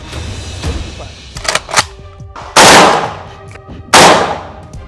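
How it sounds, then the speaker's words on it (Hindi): Two loud, sharp AK-203 rifle shots ring out at a Moscow shooting range, cracking about a second and a half apart with decaying echo, after some lighter handling clatter and low background voices. "खुद AK-203 से फायरिंग कर दुनिया के सबसे आधुनिक राइफल की ताकत आजमाई"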